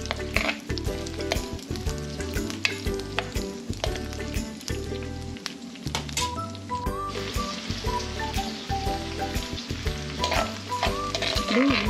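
Onions frying in a pot on the stove for fish curry, loud steady sizzling with frequent stirring scrapes and clatter throughout, no speech.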